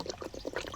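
Coconut milk poured for a Thai mango sticky rice dessert, a brief, faint liquid glugging and trickle lasting under a second.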